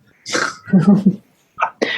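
A person imitates a cough with a few short, forceful bursts at close range, pausing briefly between them, with no talk alongside.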